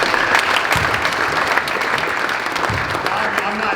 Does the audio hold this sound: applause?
yes